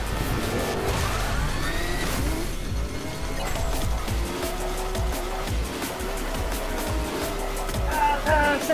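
A boosting car engine in the racing video game Onrush, with high revving engine whine rising and falling continuously over low rumble and occasional skids, loud and close.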